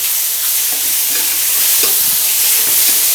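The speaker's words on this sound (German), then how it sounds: "Die Pilze werden geröstet. Die Zucchini." Mushrooms and zucchini roasting in a frying pan hiss with a loud, dense sizzle, with soft scrapes from stirring now and then and no voices.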